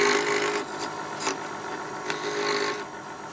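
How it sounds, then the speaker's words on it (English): Wood being filed and sanded for a dart board case, a close, continuous raspy rubbing with brief stroke bursts and no voices. "the rest was filed and sanded down to give that inside a better edge"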